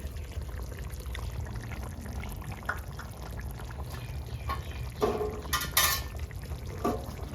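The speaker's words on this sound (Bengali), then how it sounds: "ভেজে রাখা মাছটা দিয়ে দিচ্ছি" Fried fish slides into a simmering curry with a bubbling, watery burble and a few splashy bursts, close and moderately loud, with no talking.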